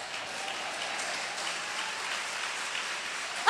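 Steady, dense applause from a church congregation fills the space evenly, a continuous wash of many hands clapping at a constant level with no talk.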